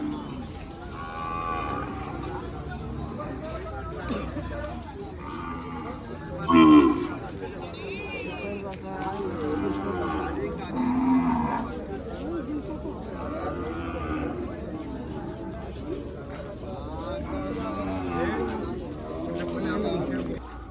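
Calves mooing now and then at the Kodad cattle market over a busy background of voices and crowd chatter, with a couple of louder calls standing out.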